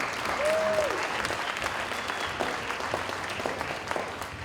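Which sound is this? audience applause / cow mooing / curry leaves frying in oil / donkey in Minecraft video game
audience applause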